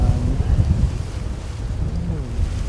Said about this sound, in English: Really has got a bit windy.